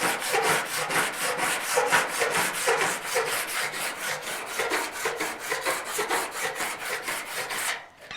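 A hand file rasps across a 1956 Chevy steel fender in quick regular back-and-forth strokes, close and bright, about three strokes per second before stopping near the end.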